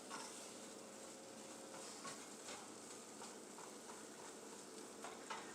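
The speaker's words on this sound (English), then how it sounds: "A couple more stirs." Steady scraping and stirring in a frying pan while cooking chicken fried steak, a low continuous rasp with faint sizzle and a few soft knocks, close and fairly quiet, no talking.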